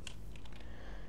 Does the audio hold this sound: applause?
no